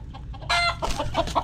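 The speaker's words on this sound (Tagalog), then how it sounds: "Native native manok." A native chicken clucks close by in a few short bursts, with one louder squawking call in the middle.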